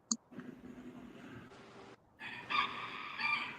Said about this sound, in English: Damn rooster, it's like going crazy.